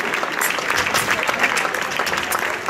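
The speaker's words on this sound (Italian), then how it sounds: "Però serve grandi applausi e grande tifo." Audience applause and cheering at a fencing marathon event in Rome, a dense, steady wash of clapping and crowd noise filling the whole stretch at close, loud level.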